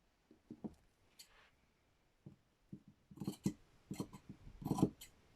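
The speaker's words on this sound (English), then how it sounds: "cut that piece in half" Quiet, scattered snips and fabric rustles as scissors cut a piece of t-shirt fabric in half, the crisp blade strokes growing denser and a little louder toward the end.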